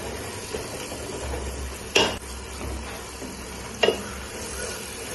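Spoon stirring vegetable biryani masala in a pan, two sharp scraping clinks about two seconds apart over a soft background hiss, close and moderately loud.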